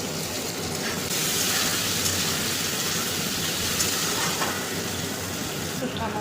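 Chopped onion sizzles in a pan with prawns rubbed in salt and turmeric, a steady close hiss that swells after about a second and continues loudly.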